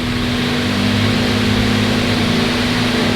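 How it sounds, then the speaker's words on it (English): A Volkswagen Golf GTI engine runs at a steady idle close to the listener, a continuous low hum with a constant tonal drone and no talking. "this engine sounds sweet, doesn't"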